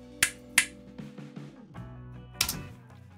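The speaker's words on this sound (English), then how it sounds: "I'm just going to do a couple finger snaps." Three sharp finger snaps ring out close to the microphone, two in quick succession and a third after a pause, over quiet musical tones.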